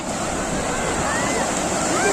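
River water runs steadily past a crowded bathing ghat at the Trimbakeshwar Mahadev temple after recent rain, making a continuous broad rushing wash close to the microphone, with voices mixed in.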